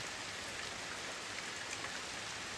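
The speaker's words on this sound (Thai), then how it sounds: "โอ้ฝนก็ตกไม่หยุดเลยทีนี้ทุกคน" Rain falls steadily outside a cave, an even, dense hiss of drops on surfaces with no pauses, fairly soft, and no voices.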